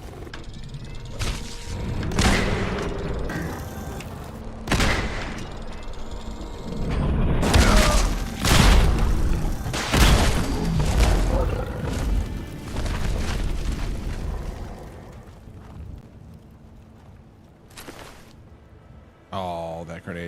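Heavy booming blasts of a grenade during a fight with a super mutant and a Deathclaw in Fallout 4, several deep explosions and roars in a chaotic stretch, with someone talking over them.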